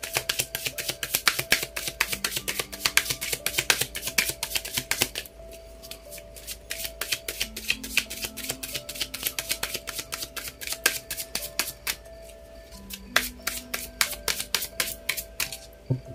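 Tarot or oracle cards are shuffled in a rapid, crisp riffling patter, broken by short pauses as cards are drawn and set down, close and steady throughout.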